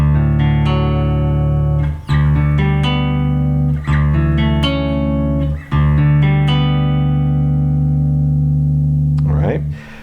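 Fender Bass VI played with the neck and middle pickups engaged together, loud sustained low notes ringing with rich overtones and a few brief breaks between notes, heard alone without talk.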